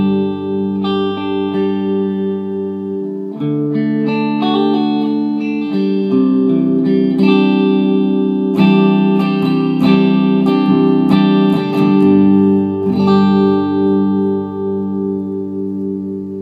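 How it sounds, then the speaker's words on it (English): A clean electric guitar plays through a 40-watt Bogner amp with nothing else in the chain. It rings out loud and sustained in held chords and notes, with strums picking up in the middle. "this is just the guitar clean through nothing else,"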